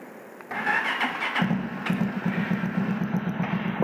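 A motorbike engine in Pakistan is cranked with the starter, a short whir, then it catches and settles into a steady close, loud, throbbing idle with no talk over it.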